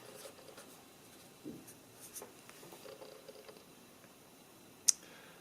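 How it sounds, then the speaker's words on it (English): A pencil moves lightly across paper in soft, faint scratching strokes and small rubs, ending in one sharp tap near the end, with no talking. "you can write the date here"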